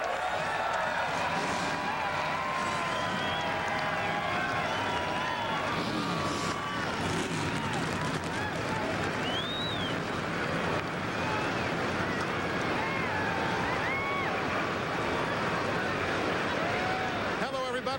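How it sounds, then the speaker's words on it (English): A field of NASCAR Winston Cup stock car engines firing and roaring at Dover Downs International Speedway, a dense, continuous loud rumble with a crowd beneath it, sustained throughout. "but one thing that never changes at Dover, the command to fire the engines from Melvin Joseph."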